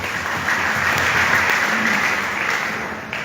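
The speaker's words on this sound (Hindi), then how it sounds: "ताली बजाइए एक बार के लिए" An audience at a business seminar breaks into applause, a thick, even wash of many hands clapping that swells and then gradually thins toward the end.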